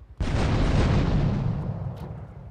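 An RPG rocket explodes in Grand Theft Auto III with one sudden, loud, broad boom that rolls on as a sustained rumble and slowly fades.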